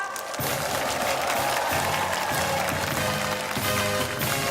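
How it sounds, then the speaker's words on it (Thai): Audience applause in a school gathering welcoming the headmaster, a steady, dense wash of clapping lasting throughout, fairly loud and close, with faint crowd murmur beneath. "ขอเสียงปรบมือต้อนรับ อาจารย์ใหญ่ครับ"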